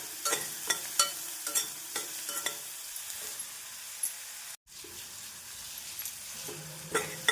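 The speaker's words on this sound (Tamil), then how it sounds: "வெங்காயம் சேர்த்து 1 நிமிடம் வதக்கிய பின் நறுக்கிய பச்சை மிளகாய்," Onions sauté in a pan for semiya kichadi, giving a steady, moderately quiet sizzle broken by repeated scraping and clinking stirs of a spatula, with no speech.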